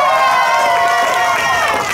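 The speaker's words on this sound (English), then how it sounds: "Let's give them a big round of applause." A crowd at a youth sports game cheers and applauds for the visiting Hurricanes team: a loud, dense wash of voices and clapping that holds steady for a couple of seconds.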